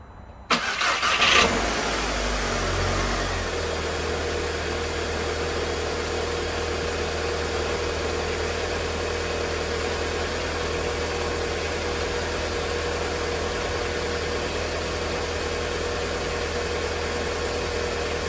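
A Volkswagen Jetta fitted with a new uprated oil pump cranks briefly, catches and settles into a steady, even idle, heard close and continuous with no talk.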